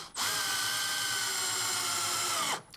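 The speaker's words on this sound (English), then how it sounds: "I'm going to drive two screws into that very spot" A power drill driving a screw into wood, one sustained close whine that starts abruptly and stops after about two seconds, with no talk.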